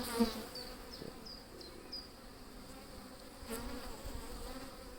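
Honeybees in an opened Layens hive during an inspection give a soft continuous buzz, with a few individual bees droning past nearby.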